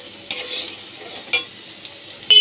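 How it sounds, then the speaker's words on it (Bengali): Potatoes fry in oil for an egg recipe, a faint, thin sizzle with a few sharper bursts and a brief metallic clink near the end, no talking. "ভালো করে আলুগুলো আমি ভেজে নিচ্ছি"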